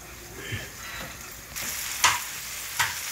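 Vegetables with tomatoes fry in hot oil in a pan while being stirred, giving a continuous sizzle broken by a few sharp scraping strokes of the spoon, close up and with no talking.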